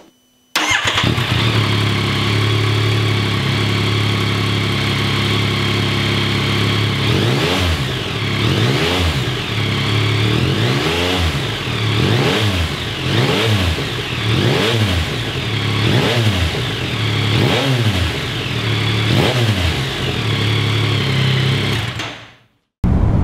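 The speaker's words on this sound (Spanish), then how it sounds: "el sonido de la moto de serie es espectacular" A 2022 Yamaha MT-09 SP motorcycle with stock dual exhaust idles loudly up close, then revs repeatedly in a steady series of rising and falling bursts before cutting off.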